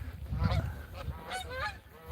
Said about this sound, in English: A lot of geese down here.